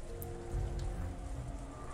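Steady rain falls as a background sound effect in the Umineko visual novel, a dense, even patter that runs unbroken for two seconds, with no voices.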